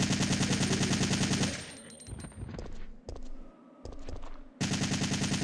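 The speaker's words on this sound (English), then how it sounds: "I forget how fun this assault rifle is." An assault rifle fires in a Resident Evil game in long rapid automatic bursts, loud and close, with a brief lull of clatter and shorter shots between the sustained strings of fire.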